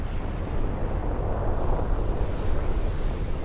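Simulated explosion of planet Theia colliding with early Earth: a dense, deep, steady roar of rumbling noise held for a few seconds, loud and without talk.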